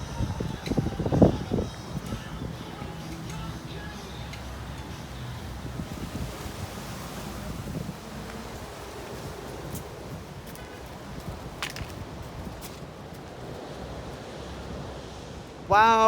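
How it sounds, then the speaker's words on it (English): Ocean surf rolls onto a beach in Melbourne, Florida, as a steady broadband wash mixed with gusty wind buffeting the microphone, continuous and fairly loud for the whole stretch. "Wow, this is a nice beach."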